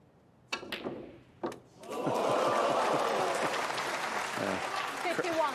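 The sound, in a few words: snooker crowd applauding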